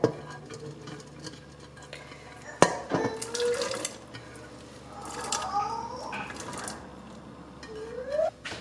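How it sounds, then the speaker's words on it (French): Water, either hot water or tomato cooking water, poured into a pressure cooker for Moroccan harira soup, splashing and gurgling steadily with a sharp knock of the pot partway through and rising filling tones near the end, close up with no talk. "je vais rajouter l'eau de cuisson des tomates ou de l'eau chaude"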